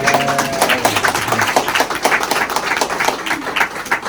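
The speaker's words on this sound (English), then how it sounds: "I just wanted to give her another round of applause" An audience at an exhibit award presentation gives a round of applause, a sustained patter of many hands with a faint tone early on, steady and fairly close.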